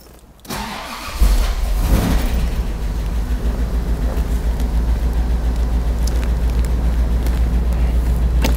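Rolls-Royce Corniche II engine cranking and catching, then settling into a steady, smooth idle that continues loud and close.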